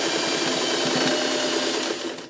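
A domestic sewing machine runs at regular speed, stitching patchwork crumb pieces with a dense, continuous mechanical whir close up that trails off at the very end.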